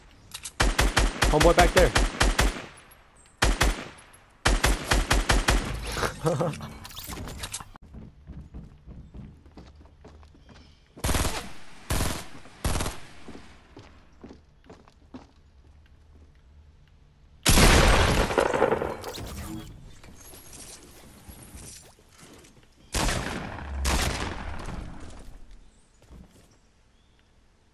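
Bursts of rapid gunfire from Fortnite gameplay come in several loud volleys with gaps between them, under and between players' talk.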